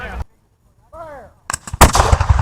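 A volley of gunfire at a Civil War battle reenactment: after a brief shouted call, a ragged burst of loud black-powder shots cracks out in quick succession, echoing across the field.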